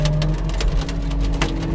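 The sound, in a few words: hail falling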